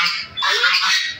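Goose at a mini zoo honking loudly and close by, one harsh drawn-out call with a brief break partway through, standing alone without talk.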